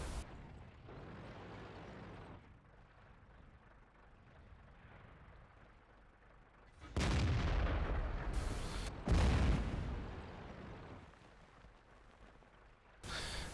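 Heavy tank cannon blasts from World of Tanks, two loud booming shots with rumbling tails over quieter engine and battle ambience, with no talking.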